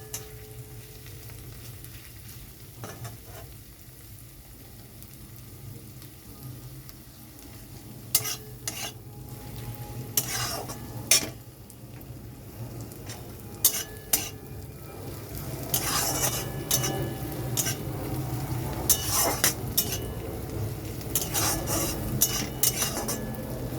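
A shrimp poppy-seed curry is stirred and sautéed in a pan: a low sizzle runs throughout, and a utensil scrapes and clinks against the pan in bursts that grow busier and louder toward the end.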